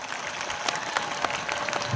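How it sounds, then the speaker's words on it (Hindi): An audience at a World Indigenous Day gathering in Dungarpur, Rajasthan claps in a lively, uneven burst, individual sharp claps standing out within a continuous patter of applause throughout the short moment. "उन सबको एक बार तालियों से अभिनंदन करिए दोस्तों"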